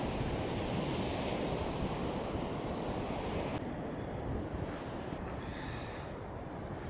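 Ocean surf and wind roll steadily along an Arctic shoreline, a dense, loud wash of breaking waves with gusty wind buffeting the microphone throughout.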